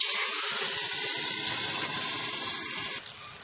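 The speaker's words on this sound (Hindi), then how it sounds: "अब हम इसमें डाल देते हैं पानी।" Water poured into a pan of browned onions while cooking rice gives a steady hissing, splashing rush that stops abruptly near the end, heard up close with no talk.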